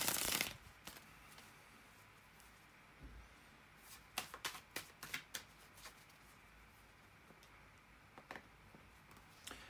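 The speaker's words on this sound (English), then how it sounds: "bear with me a second, guys, to shuffle the cards" Tarot cards being shuffled close by: a loud burst at the start, then a run of quick riffling flicks and soft taps in a quiet room.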